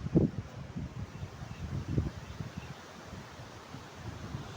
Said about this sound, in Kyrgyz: Шамал.